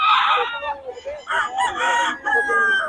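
A rooster crows loudly and close, with drawn-out wavering calls, while other chickens cluck nearby, at a rooster sale in Bocaue, Philippines.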